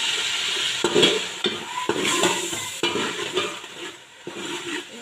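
Rice being roasted with cumin in a pot for chicken yakhni pulao, a spoon scraping and clinking in repeated strokes over a soft background sizzle.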